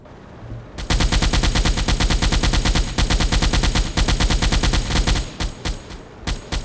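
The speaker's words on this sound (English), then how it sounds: "You guys better shoot that freaking aircraft." A submarine crew in the Silent Hunter 4 video game fires at an aircraft: loud, close, continuous rapid gunfire runs for several seconds, then breaks into a few short separate bursts.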